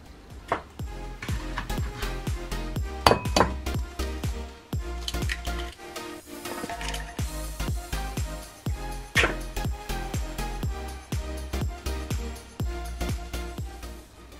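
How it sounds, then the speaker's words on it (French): Four eggs are whisked like an omelette in a bowl, producing a run of quick rhythmic clicking strokes that pause briefly partway through and then resume at a steady pace. "On va casser 4 œufs que l'on va fouetter comme une omelette"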